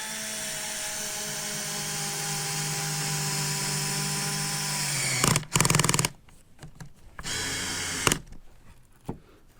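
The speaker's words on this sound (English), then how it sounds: "So go ahead and screw in this side." A power drill whirs steadily as it drives a screw into soft redwood 2x4s on an old deck cabinet, the motor note sustained for about five seconds, then breaking into short bursts and a final brief spin.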